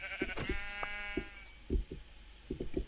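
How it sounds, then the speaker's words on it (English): A sheep bleats in Minecraft with one clear, wavering baa, surrounded by a string of short, sharp thumping hits and footstep-like knocks from the game. "I'm going to go kill this sheep, which will give me some wool and some lamb chops."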